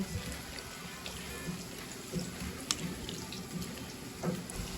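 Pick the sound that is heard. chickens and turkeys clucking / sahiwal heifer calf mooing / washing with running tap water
washing with running tap water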